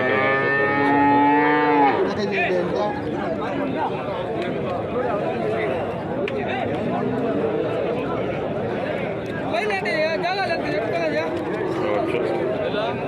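Jersey and Holstein (HF) calves lowing repeatedly at a busy Chintamani cattle market, one loud close moo opening, then others mixed with constant crowd chatter and people talking.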